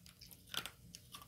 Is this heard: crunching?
yes